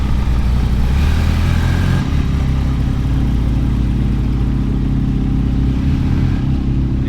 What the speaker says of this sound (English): anytime we have to start them up like this, we like to let them idle for a little while to get them up to temperature